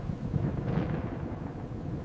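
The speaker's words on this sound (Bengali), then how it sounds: "আকাশে বজ্রপাত শুরু হলো।" Thunder sound effect for a Bengali horror story set in the Sundarbans jungle: a short, fairly faint low rolling rumble that swells briefly and then fades.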